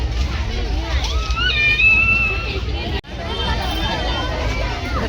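Dense crowd bustle at a village palkhi procession, a steady wash of many overlapping voices and chatter close around, loud and continuous with a brief dip near the middle.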